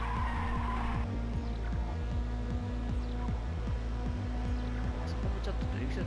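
A car drifts with squealing tires in the PlayStation racing game Ridge Racers 2, the skid running steadily beneath loud, rhythmic background music throughout.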